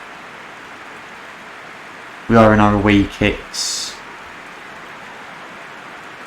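Steady rain hiss in the football game PES 2021 on a match day, a constant even wash of noise throughout, briefly covered by someone talking in the middle.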